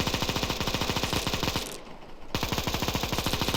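Rapid, loud automatic machine gun fire from a video game rattles in a steady stream, breaks off briefly in the middle, then resumes at the same fast rhythm, with no talking over it.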